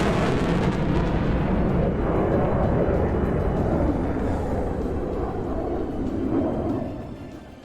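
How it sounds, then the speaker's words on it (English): A military jet roars past with a loud, steady broadband rush that swells slightly near the end and then fades away. "Get some jet sounds in the morning."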